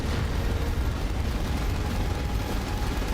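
Explosions in the video game Final Fantasy XV form a loud, continuous rumble of blasts and bangs, deep and booming, filling the whole stretch with no clear breaks.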